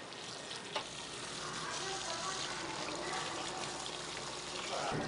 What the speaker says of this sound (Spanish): Bueno, ahora estamos friendo el chile.